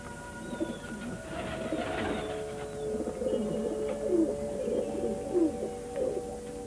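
Pigeons kept by a neighbour in wartime Sarajevo coo repeatedly in soft, throaty phrases, several birds overlapping at moderate loudness with no talking.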